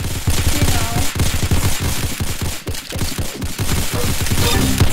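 Rapid pistol gunfire from the Roblox game Arsenal, a dense run of sharp, loud shots firing almost continuously through the whole stretch, with brief gaps and no speech.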